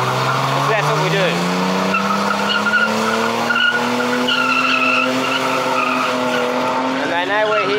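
Race cars at a motorsport event skid past with long squealing tires and rising engine whine, loud and close, one after another over a continuous roar of engines.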